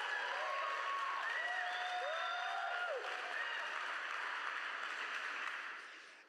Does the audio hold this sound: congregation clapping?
yes